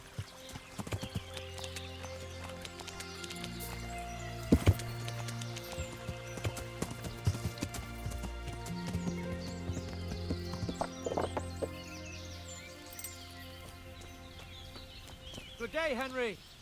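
Horse hooves clip-clopping in the medieval video game Kingdom Come: Deliverance, an irregular trot of hoof beats over outdoor ambience with a neigh and faint birds, while someone talks over it.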